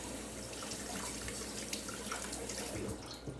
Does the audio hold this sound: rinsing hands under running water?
yes